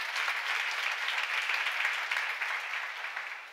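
Congregation applause during a church seminar, a dense, even clatter of many hands clapping together, fairly loud and tapering off slightly near the end.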